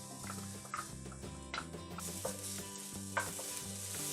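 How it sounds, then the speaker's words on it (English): Garlic added to hot oil in a pan gives a low, steady sizzle with light stirring taps and scrapes, fairly quiet and close, with a background hum running underneath. "you're gonna add the garlic, cook it up just for a second"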